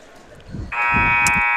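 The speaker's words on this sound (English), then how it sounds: "And there's the buzzer, and we get ready again." A long, loud gym buzzer blares steadily for about a second under a crowd's murmur and a few voices in the background, at a high school boys' basketball game in Kaukauna's home gym.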